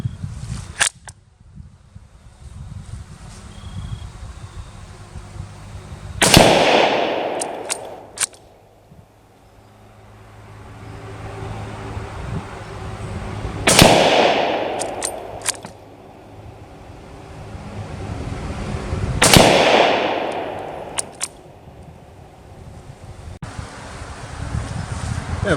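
Three loud, sharp gunshots from a Kar98k 8mm Mauser bolt-action rifle firing full metal jacket rounds at apples outdoors, each crack followed by a decaying echo, with wind noise between shots.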